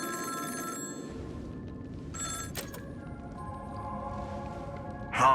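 A phone rings in the video game Honkai: Star Rail, a brief bright ringtone burst over quiet ambient game music, followed by softer tonal chimes.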